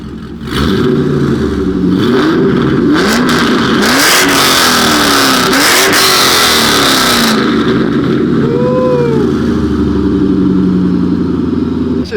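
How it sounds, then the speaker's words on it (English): A loud, raw straight-piped Corvette C5 engine with headers revs hard several times in quick succession, rising and falling sharply, then settles into a rough, loud idle. "Give it a little rev."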